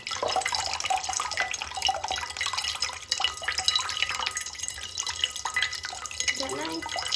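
Running water from a tap pours and drips steadily for a small bath, a continuous splashing stream close by with a brief voice near the end.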